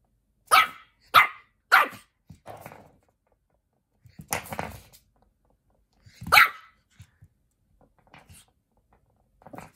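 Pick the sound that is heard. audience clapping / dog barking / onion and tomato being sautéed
dog barking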